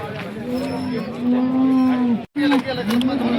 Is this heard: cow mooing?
yes